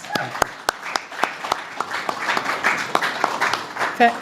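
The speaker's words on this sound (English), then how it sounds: "please give her a warm round of applause" An audience at an anniversary gathering for a peace federation applauds, starting with a few distinct claps and building into a mix of claps close to the microphone and steady clapping farther back, with faint voices underneath.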